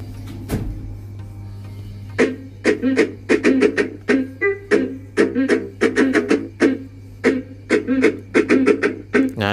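An XTM 5009 Bluetooth speaker, just repaired after its sound kept cutting out, plays audio in a series of short rhythmic pulses over a steady low hum, fairly close and clear with no one talking.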